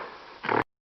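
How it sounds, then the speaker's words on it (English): A gorilla lets out a single short, gruff grunt, close and fairly loud, ending abruptly in silence. "Gorilla."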